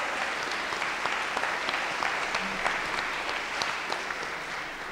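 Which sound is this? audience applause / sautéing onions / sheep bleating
audience applause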